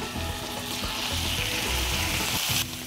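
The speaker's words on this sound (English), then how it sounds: "we're gonna add some oil to the pan and then we're gonna add the puffin to it" Puffin breast fries in hot oil in a pan, a loud close steady sizzle that continues without a break, with faint stirring or shifting in the pan beneath it.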